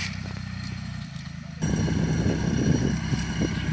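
A tractor's heavy engine labors nearby while plowing rice straw into a field, its rumble jumping louder partway through and clattering on steadily, with no one speaking.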